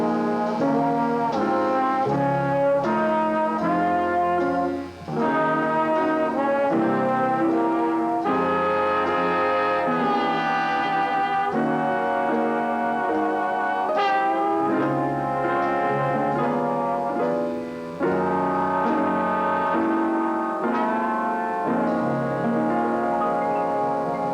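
A trombone section plays sustained, full chords in a slow, stately progression, loud and close, with brief breaths between phrases and no talking.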